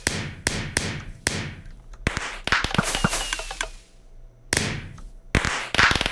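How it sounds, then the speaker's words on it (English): A rapid series of sharp pops and thumps as Minecraft firework rockets fire from a dispenser, several in quick succession, with a few softer bursts in between, loud and close. "You can put firework rockets into it, and you know, you can just spam them out."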